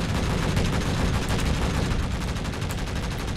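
Continuous rapid gunfire in Space Engineers, weapons hammering away at enemy turrets in a dense, loud, unbroken burst with no talk.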